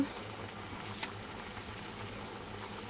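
A pot of fish and eggplant curry simmering on the stove, a faint, steady low bubbling hiss with one brief clink partway through.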